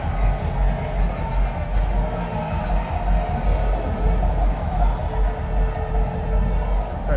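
A cricket stadium crowd at the India vs West Indies first Test roars and cheers after a pulled four races to the boundary, a dense, steady wash of many voices holding at an even loudness throughout.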